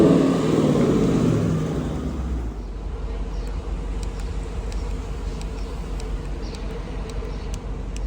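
A car accelerating away at the start, the engine note rising loudly before settling into a steady, droning cabin hum with faint road noise while driving.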